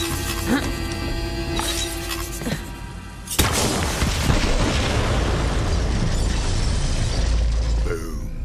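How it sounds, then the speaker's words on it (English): Bombs detonate in the Borderlands 3 Bounty of Blood DLC, in a forest setting: quiet game ambience gives way to a sudden, loud explosive blast, followed by a sustained rumbling roar and scattered debris that carries on to the end. "The explosion echoed through the forest"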